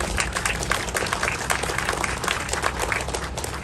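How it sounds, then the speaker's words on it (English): A crowd at the opening of a University of Minnesota off-campus safety center in Dinkytown gives a hearty round of applause, brisk overlapping claps from many hands, close and even for a few seconds. "give them another huge round of applause along with their amazing team"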